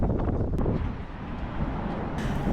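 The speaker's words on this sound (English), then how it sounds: "Geez, it's windy." Wind gusts steadily across an open pedestrian bridge in Brisbane's city centre, a broad, continuous rushing roar buffeting the microphone throughout, with slight dips and surges and no voices.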